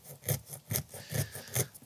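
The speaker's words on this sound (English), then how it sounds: "scraped off the Tinder fungus like this to create a" A sharp piece of flint scrapes tinder fungus into a fluffy pile, with four slow, evenly spaced rasping strokes, close and fairly quiet.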